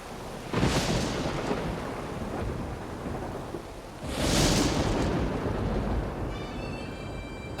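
Thunder from lightning in a storm, two deep rumbling crashes a few seconds apart over steady rain, loud and close, with faint chirping at the end.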